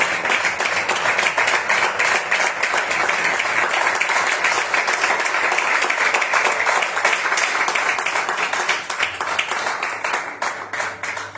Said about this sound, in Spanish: hágale fuerte las palmas al Señor